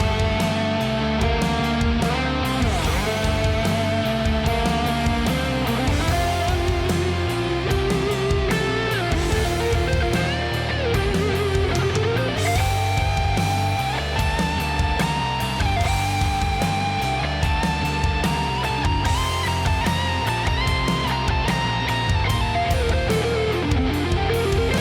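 Dense heavy hard rock modern metal mix where a distorted lead guitar solo, blended with a DI track, bends and sustains over driving drums and rhythm guitars, loud and continuous.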